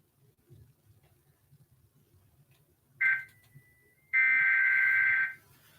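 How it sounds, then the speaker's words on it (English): A steady electronic buzzer tone sounds twice, first a short burst, then a longer sustained blare, over faint background hum. "Go to channel 11 and listen to the buzzer."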